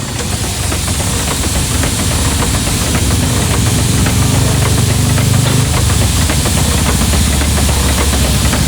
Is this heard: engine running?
yes